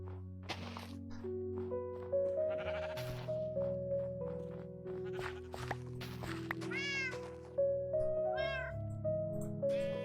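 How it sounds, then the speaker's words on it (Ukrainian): Repeated bleating from sheep in Minecraft as one is sheared, over a bed of steady, sustained music tones, with several short animal cries spread across the clip. "Тепер ми Пострижемо Оксану"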